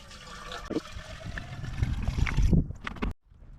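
Pool chlorine glugs and splashes steadily into a container for a few seconds, building in loudness before stopping abruptly.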